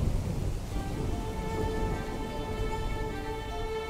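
Rain falling steadily and fairly loud, a dense continuous patter with a low rumbling undertone, no voices.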